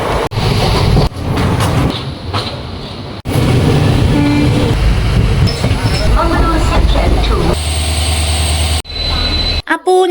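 A passenger train bound for Murudeshwar rumbles and rattles steadily from inside a carriage, with a few abrupt breaks and a brief high tone near the end, under some nearby talk.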